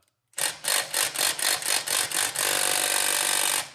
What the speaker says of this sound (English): Now, let's see if we can break the bolt loose.